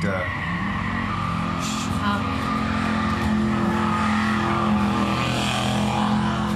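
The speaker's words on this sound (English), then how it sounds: "That's when the car rapidly accelerates." A car engine roars and rises on a dark street, with tire noise under it, loud and continuous for several seconds, while speech runs over it.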